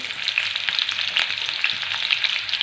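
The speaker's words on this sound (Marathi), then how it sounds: "आता तेल छान तापले त्यामध्ये आपल्याला हिरवी मिरची टाकून घ्यायची आहे" Green chillies frying in hot oil for a vegetable noodle dish, a dense, steady crackling sizzle with sharp pops throughout, close up and without talk.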